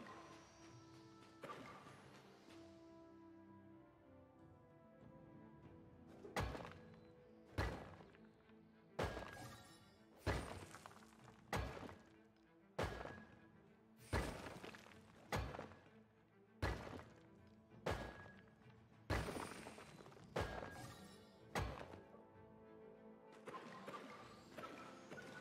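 Pickaxe strikes on rock in the fantasy game Crowfall, a steady series of about a dozen loud, sharp cracking impacts roughly every second, each with a shattering, crumbling tail over a soft background music bed.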